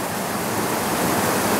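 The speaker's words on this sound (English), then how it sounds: "we just came across this waterfall" A waterfall roars steadily, a dense and unbroken rush of water heard up close and loud, running after rain, with no voices over it.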